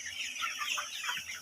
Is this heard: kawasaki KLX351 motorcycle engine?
no